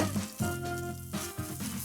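Whole chilies and spice seeds toast in a hot pan, giving a steady close sizzle with occasional stirring bumps and no talking.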